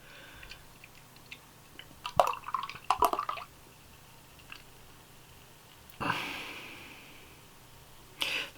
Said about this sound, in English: I'm just going to pour it into the glass